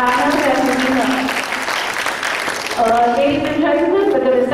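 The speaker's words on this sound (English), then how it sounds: "So let's all first warmly, with a huge round of applause, thank these little ones" Audience applause for young children at a school class presentation, a steady dense wash of clapping that runs the whole time, with harmonic voices or music threading through it.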